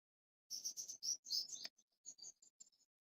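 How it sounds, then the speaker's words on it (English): A bird chirps in a quick run of bright, sharp tweets, then a sparser trail of fainter chirps, heard fairly close with no voices over it. "Guess the bird is having fun today."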